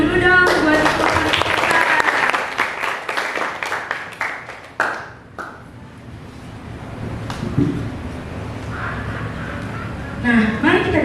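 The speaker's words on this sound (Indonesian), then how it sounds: "Tepuk tangan dulu dong buat ketua panitia." At a school Christmas celebration, the audience claps for the committee chair in a crowded burst of applause that fades after about five seconds, followed by quieter voices and room noise.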